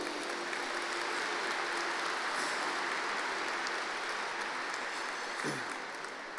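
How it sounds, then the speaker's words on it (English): Audience at an Oklahoma women in aviation and aerospace day event gives a sustained round of applause, a dense, even roar of many hands clapping that fills the whole stretch with no break. "Let's give them a round of applause."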